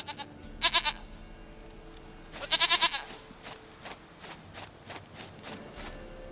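A goat in The Witcher 3 bleats in several short, quavering bursts with pauses between them, heard close against a quiet background.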